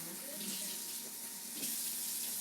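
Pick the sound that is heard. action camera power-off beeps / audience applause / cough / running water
running water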